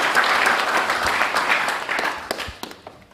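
Crowd clapping at a football pregame show for Jackson State versus Grambling, a burst of applause that tapers off into a few scattered, separate claps near the end.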